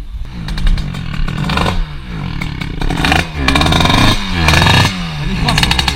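A rebuilt Rieju motorcycle with a new 70cc two-stroke engine runs close by. It revs and blips in repeated surges, with a rough, raspy idle between the throttle bursts.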